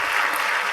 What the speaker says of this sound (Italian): Un grande applauso al duo Casolari.